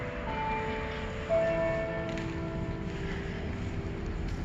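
Church bell ringing in a downtown Chilliwack street, sustained tones lingering over steady outdoor background noise, moderately distant.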